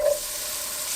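Butternut squash lands in a pan of sautéed onions and garlic, giving a brief clatter, then a steady close sizzle of frying that holds without talk.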